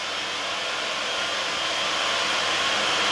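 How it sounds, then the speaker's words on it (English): Cavity wall insulation is injected into a house wall by a machine, producing a loud, continuous blowing hiss like a hair dryer that holds steady and builds slightly, with no talking. "More injection going on."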